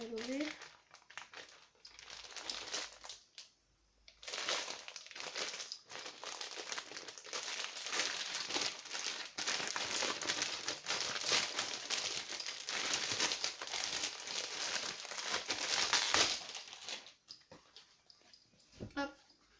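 Plastic packaging around a baby clothing item crackles and crinkles nearby as it is pulled open, a dense, ongoing rustle for most of the stretch. A brief high voice-like sound opens it.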